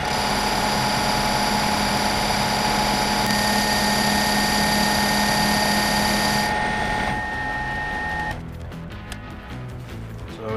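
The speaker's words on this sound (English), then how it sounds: "I'm just going to give it a quick face cut" Lathe taking a facing cut on a part for a big-bore stroker motorcycle cylinder: a steady loud whine with strong sustained tones that shift partway through, then the cut ends and the machine runs more quietly.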